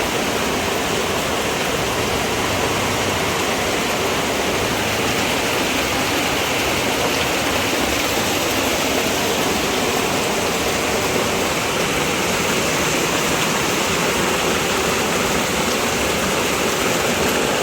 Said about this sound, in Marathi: आज पाणी थांबणार नाही असं वाटतंय मला